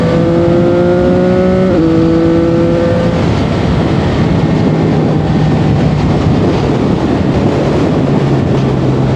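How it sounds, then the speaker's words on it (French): A CF-Moto 675 SR-R sport motorcycle engine revs up close and loud: a rising, harmonic whine that steps in pitch, then gives way to a rough, raspy roar that holds steadily to the end, with no talking. "plus tu ouvres en grand, plus la sonorité évidemment se fait un petit peu plus rauque à chaque fois"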